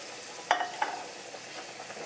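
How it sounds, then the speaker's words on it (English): A spoon stirs tomato paste, Rotel and a splash of pasta water in a pan, giving a few light scrapes and clinks over a soft, steady sizzle, close and quiet, with no talking. "We're gonna mix it."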